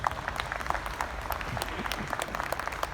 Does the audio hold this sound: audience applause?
yes